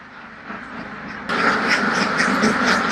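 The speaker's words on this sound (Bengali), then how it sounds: "এই সেই হাঁসের খামারটি" Ducks quack at a large duck farm where eggs are being collected, a close, busy chorus of repeated calls that grows louder and denser partway through.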